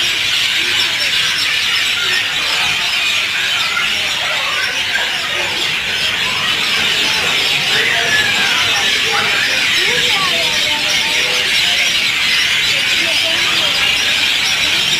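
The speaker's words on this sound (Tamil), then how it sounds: "இங்கே பாருங்கள் எவ்வளோ பறவைகளோட சத்தம் அதிகமாக இருக்குது" A dense chorus of many birds chirping and squealing together from a large tree at a temple, continuous and loud throughout.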